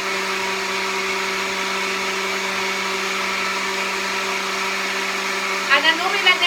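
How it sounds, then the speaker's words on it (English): Blender grinding grapes and ginger runs continuously with a steady loud motor whine, close by, with brief voice-like sounds near the end. "I normally let that grind for about a good minute"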